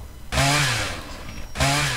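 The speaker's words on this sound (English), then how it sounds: "says no with the chainsaw" A chainsaw in the video game Dead Island: Riptide roars in two loud, close bursts of harsh buzzing revving, with a brief gap between them.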